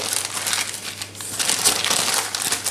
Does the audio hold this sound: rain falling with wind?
no